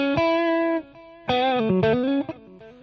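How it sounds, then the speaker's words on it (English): Guitar through a Boss Katana amp using the warm tape delay effect: two bright picked phrases with sliding pitch, each trailing off into quieter repeats, played alone at close range. "what I would always prefer is the tape delay sound."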